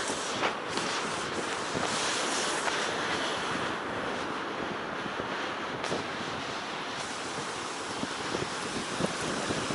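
Stormy sea surf pounds the shore at Zelenogradsk on a snowy spring evening, a dense, continuous roar of breaking waves mixed with strong wind buffeting the microphone, loud and unbroken throughout.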